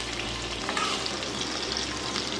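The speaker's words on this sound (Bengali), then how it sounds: "আমি 2 মিনিট ধরে এটা ভেজে নিচ্ছি।" Pumpkin, taro and potato pieces frying in a pan, giving a steady, close, dense sizzle with no breaks and no voices.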